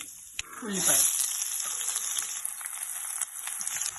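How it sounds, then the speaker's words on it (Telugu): Onions frying in oil with mustard seeds, fenugreek, cumin, chilli and curry leaves, a close steady sizzle with small crackles and a brief clink, a voice speaking faintly over it. "ఉల్లిపాయలు ఇలా ఎర్రగా వేగిపోయాయి కదండి"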